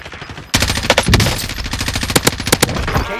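Rapid automatic gunfire in Call of Duty Warzone on Rebirth Island erupts suddenly after a quiet start, with dense bursts and sharp individual cracks continuing loud and close.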